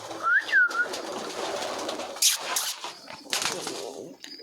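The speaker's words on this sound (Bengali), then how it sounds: "আবার চলে এলো পায়রাটা।" Pigeons at a backyard pigeon loft, with a couple of soft whistly calls early on and brief flutters or wing claps amid rustling outdoor background, close by and moderately loud.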